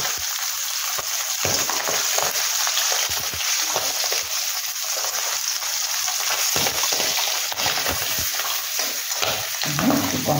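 Fish frying in a pan of hot oil, a loud continuous sizzle with crackling and occasional stirring scrapes, close and steady throughout.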